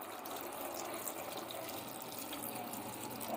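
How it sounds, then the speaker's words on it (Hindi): Water is poured into a pot of chopped bathua and mustard greens for saag, a steady close splashing and trickling flow that continues evenly throughout with no talk. "अब इसके अंदर हम पानी डालेंगे।"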